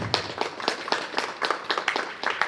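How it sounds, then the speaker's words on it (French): An audience at an expo event applauds the guest of honour with a steady patter of many overlapping hand claps, moderately loud and continuous throughout. "si vous commencez à applaudir pour le premier, vous allez applaudir pour les suivants"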